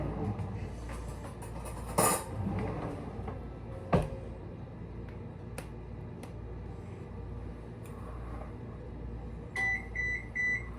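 A kitchen oven signals it has finished preheating with three short electronic beeps near the end, after a quiet stretch of faint kitchen clatter and a couple of knocks.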